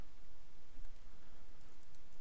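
Computer keyboard keys tapped while entering a configuration command on a Juniper SRX firewall, a faint steady patter of clicks with no voice.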